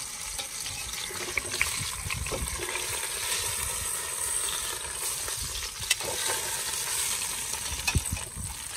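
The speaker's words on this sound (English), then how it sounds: "Throw these in, brown them off." Beef ribs sizzle and fry steadily in a hot preheated camp oven, a constant crackling hiss with occasional sharper pops and clanks.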